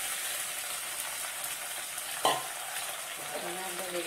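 Green chillies fry in a pan for tomato chutney with a continuous, even sizzle close by, broken by one sharp metallic clink and faint stirring toward the end.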